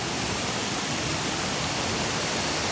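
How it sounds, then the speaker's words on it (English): A waterfall on Koh Kood island in Thailand makes a steady, dense roar of rushing water, loud and unbroken throughout. "There's another waterfall and I can see there's a few people there."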